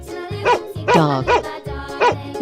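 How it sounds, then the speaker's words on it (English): A dog barks several times in a quick, evenly spaced series, loud and close, with no other sounds around it. "Dog."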